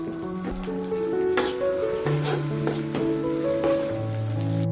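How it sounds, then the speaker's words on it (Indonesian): Shallots fry in hot oil for an Indonesian sate Padang garnish, a steady crackling sizzle with scattered pops, with tonal background music playing underneath. "kita goreng dulu bawang gorengnya untuk taburan di atas kuah"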